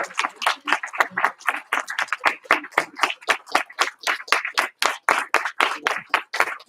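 A small group in a martial arts class claps for a student earning his white belt, with distinct, fairly quick hand claps ringing out steadily and close by.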